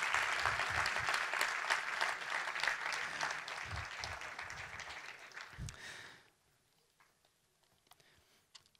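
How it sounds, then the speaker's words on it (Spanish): A church congregation applauds during a sermon, dense clapping that carries for about six seconds and then drops off abruptly into near silence with a few faint stray sounds. "Eso merece un aplauso."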